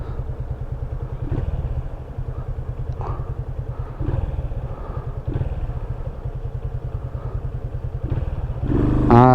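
Yamaha FZ 250 motorcycle with its air filter removed, running close by with a rough, throbbing engine note and pulsing exhaust beat, swelling into a louder rev at the end.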